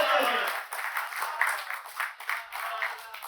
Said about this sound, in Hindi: इधर से दो हज़रात की तालियां बजी